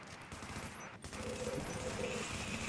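Automated turret in Tom Clancy's The Division firing rapid sustained bursts, a dense rattling fusillade that runs almost the whole clip after a brief gap, moderately quiet in the mix.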